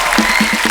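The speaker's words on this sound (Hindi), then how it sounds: "फिर आप लोगों के एल्बम के लिए जोरदार एक बार तालियां हो जाए।" Applause from a studio audience on a televised comedy talk show with a singer as guest, a steady, dense wash of clapping that lasts the whole short moment.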